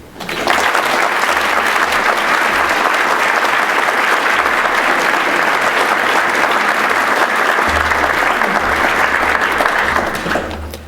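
A large audience applauds loudly and steadily to welcome Judge Hudson to the stage at a university lecture, a dense wash of clapping that fades out at the end.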